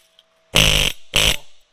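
An Ingersoll Rand pneumatic air tool in a welding shop gives two short, loud bursts of running, each under half a second, separated by a brief gap.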